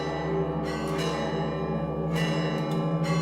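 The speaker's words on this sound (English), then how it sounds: "The bells are incredibly loud" Loud, resonant church bells ring continuously in Jerusalem's Holy Land setting, overlapping tolls swelling every second or so, a dense metallic clangor filling the space.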